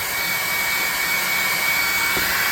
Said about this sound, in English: Here we are with my junky old hairdryer again